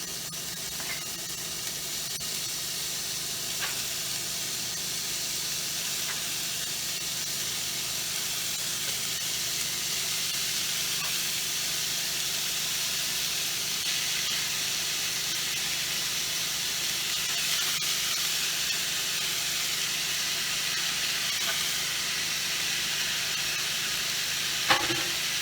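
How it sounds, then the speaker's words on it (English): Two pounds of ground beef sizzles steadily in an already hot pan, a dense, even hiss that holds for the whole stretch with a few faint scrapes and one sharp clack near the end; no one speaks. "We're going to go ahead and just add this to the pan."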